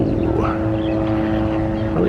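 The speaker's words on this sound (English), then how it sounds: "I hear helicopters" Helicopters fly overhead at Pearl Harbor on Oahu, Hawaii, making a continuous droning engine hum with a steady tonal whine, with faint voices nearby.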